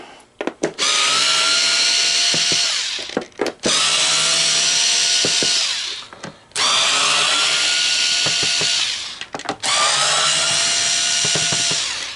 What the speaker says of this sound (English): We're going to take out all the screws because this black side's coming off.